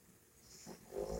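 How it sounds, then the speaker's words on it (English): A sleeping dog snores with a faint, low, rasping breath that swells toward the end of the short stretch, heard quietly and close with no talk. "Excuse my dog snoring."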